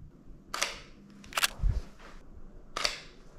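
A camera shutter fires while photographing the interior of a beach mansion: three sharp, separate clicks spaced about a second apart against a quiet room, with a soft thump between them.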